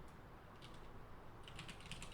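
Soft, rapid keystrokes tap on a computer keyboard, faint and close, in an irregular quick rhythm over a low background hiss.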